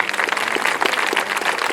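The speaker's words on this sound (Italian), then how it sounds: "Prima voglio sentire un super applauso," A crowd at an outdoor beauty pageant stage event in Caorle, Venice, claps in a dense, steady wash of applause, loud and continuous throughout, with no voices standing out.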